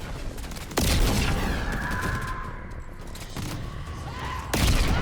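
Gunfire in a video game boss fight against the Entity, aimed at her hands: loud, booming bursts of shots with a heavy blast near the start, another near the end, and a roaring rumble in between.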